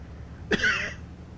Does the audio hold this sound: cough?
yes